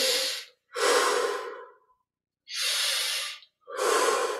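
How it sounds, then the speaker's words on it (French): Deep breathing in a Kriya Yoga exercise, with the back arched and chest opened: four long, loud, close breaths, each inhale or exhale lasting about a second or more, separated by short silent pauses, with no talking. "20 respirations profondes."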